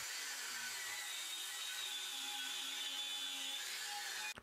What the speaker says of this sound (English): you can see how I am cutting through the weld